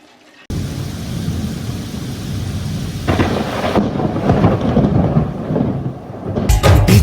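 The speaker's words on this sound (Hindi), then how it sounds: "बिजली चमके बादल गरजे रिमझिम गिरत पानी।" Heavy thunder rolls over steady rain, starting abruptly after a brief quiet moment. The downpour grows denser and louder, and a sharp, loud burst comes near the end, with no voices.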